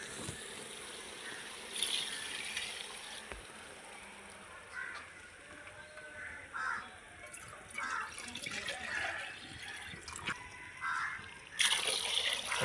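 Water poured from a measure into a pot holding one kilo of raw seeraga samba rice for a Vellore-style chicken dum biryani, a soft uneven trickle and splash with faint background sounds and a couple of louder bursts.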